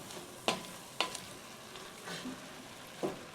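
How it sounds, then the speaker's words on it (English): Ground venison sizzles faintly in a pan while a utensil scrapes and stirs it, with a few sharp clinks spaced irregularly over a low frying hiss. "as this meat starts to get cooked all the way through, we got to flip it around here a little bit"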